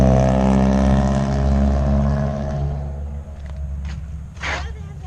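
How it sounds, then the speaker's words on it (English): A loud Chevy pickup with a tailgate delete rumbles with a deep, steady engine roar that eases off partway through, while voices talk over it. "My truck is so loud."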